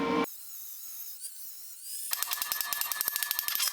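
High-pitched whine of a power tool cutting a metal piece for a mini K-type rocket stove, starting with a brief burst, then a thin rising tone and a rapid buzzing rattle as the blade bites, close and fairly loud.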